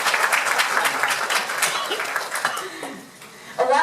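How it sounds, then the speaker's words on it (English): Audience at a Toastmasters leadership talk applauds in a steady burst of clapping with a few chuckles, which fades out toward the end as a voice begins speaking. "we can applaud her"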